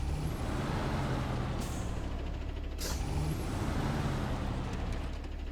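A truck engine idles loudly and steadily near a crane at a factory site, with sharp hissing bursts of air brake release cutting in twice.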